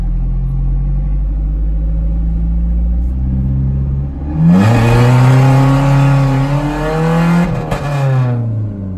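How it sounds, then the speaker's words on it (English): A manual truck idles with a deep rumble, then goes to full throttle in first gear, the engine roaring loudly and rising sharply in pitch before the revs drop and settle back; no talking. "I'm just gonna do a full throttle first gear, because driving manual and holding the camera kind of sucks."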